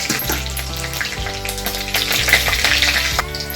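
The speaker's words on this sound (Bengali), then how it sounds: "ফোড়নটাকে ভালো করে ভেজে নেব" Black cumin seeds and green chillies fry in hot oil with a steady, dense sizzle that crackles and pops close up, growing slightly louder toward the end, with no voices.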